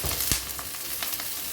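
Onions frying with finely chopped green chillies in a pan, a dense sizzle with a few sharper spits and stirs, close and unbroken, no voices.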